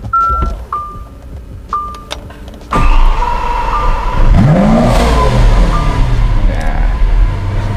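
A custom Lamborghini LP700 supercar gives a few short electronic beeps, then its engine fires with a sudden loud burst and settles into a steady, powerful idle.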